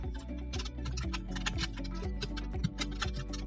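Steady typing on a computer keyboard, quick clustered keystrokes running continuously over a sustained low tonal hum, close and fairly loud, no voices.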